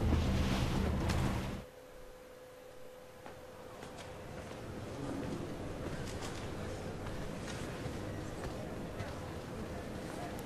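In Assassin's Creed 4: Black Flag, wind and sea waves wash around the sailing ship Jackdaw. A loud gust at the start drops into a steady rush of wind and surf, with a voice speaking over it.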